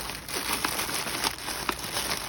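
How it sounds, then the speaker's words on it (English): Tissue paper folded and crinkled while wrapping outgoing mail in a package, soft close rustling with a few sharper crinkles over steady background hiss. "I'm going to close the little side edges of the tissue paper."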